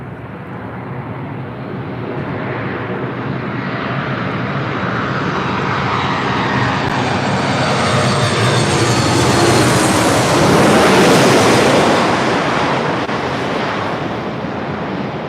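A United Airlines jet at LAX roars past close by, its engine noise swelling steadily from a broad rumble into a loud peak with a rising whine before starting to ease, heard alone without voices.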